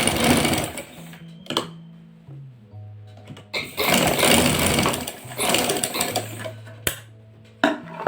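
A sewing machine runs in short whirring bursts, stopping and restarting several times, while stitching an elastic joint on a simple pair of trousers; no one speaks.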